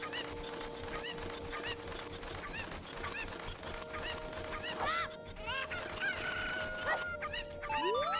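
Video game chicken sounds from The Legend of Zelda: The Minish Cap, repeated short chirpy fowl calls over looping game music, with rising pitched squawks toward the end.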